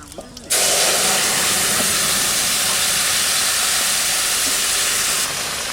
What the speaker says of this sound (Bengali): সর্ষের তেল দিলাম জিরে আর রান্ধনি ফোড়ন দেবো